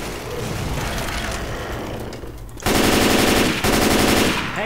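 Left 4 Dead 2 automatic gunfire: after a noisy stretch, sustained rapid bursts of loud machine-gun fire with a brief break between two long volleys.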